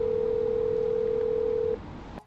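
A telephone dial tone in an Indonesian radio drama holds steady for under two seconds, then cuts off and is followed by a soft click.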